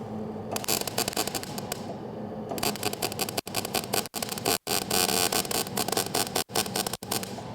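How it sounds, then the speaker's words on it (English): Arc welding with a Miller welder under repair: loud, close crackling and sizzling arc bursts that start and stop repeatedly, broken by brief silent gaps, with no talking. "I'm just getting it so it can weld, guys."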